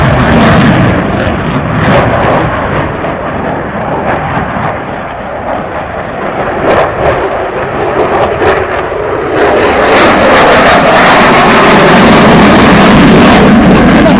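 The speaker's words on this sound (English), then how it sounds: "Eurofighter Typhoon. It's performing a max performance turn." An Italian Air Force Eurofighter Typhoon jet flies a max performance turn at the Radom air show in Poland, its engine roar loud and sustained, swelling near the end, while an announcer speaks over the public address.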